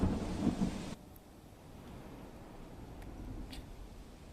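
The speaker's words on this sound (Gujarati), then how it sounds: "બનાસકાંઠાના ડીસામાં ધોધમાર વરસાદ," Heavy monsoon downpour with thunder in Deesa, Banaskantha: a loud, deep thunder rumble fades after about a second into a steady, hissing wash of rain.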